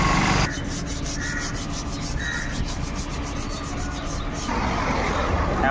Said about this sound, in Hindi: यहाँ पे ब्रेक पैड पे पेपर मारेंगे अच्छे से।